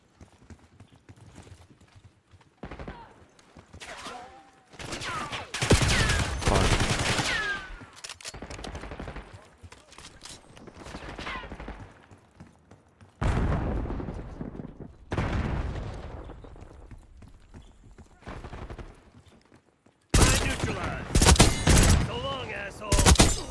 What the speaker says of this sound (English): Okay, so now they're dying when I shoot them.